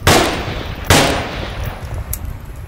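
Two sharp rifle shots in the VR military game Onward, about a second apart, each a loud close crack followed by a ringing decay, then a faint metallic tink.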